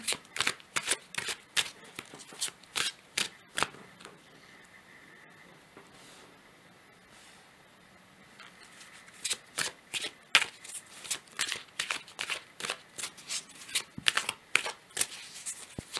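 A tarot deck is shuffled by hand close up, in bursts of rapid riffling card flicks, then a quiet pause of several seconds before the papery clicking resumes in longer runs.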